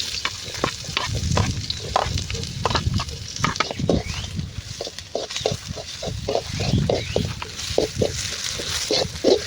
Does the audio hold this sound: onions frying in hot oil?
yes